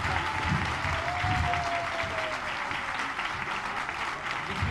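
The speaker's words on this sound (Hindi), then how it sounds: "जोरदार तालियां बजा के" Dense, sustained applause from a crowd fills the whole stretch, steady and loud, with a faint tone drifting underneath.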